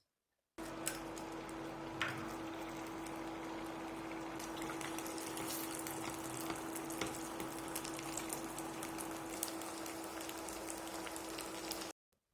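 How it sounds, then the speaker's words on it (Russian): An egg fries in vegetable oil in an aluminium pan, giving a steady, quiet sizzle and crackle with scattered pops. The sound starts abruptly and stops the same way, with no voices. "налила небольшое количество растительного масла и хотела попробовать пожарить яйцо"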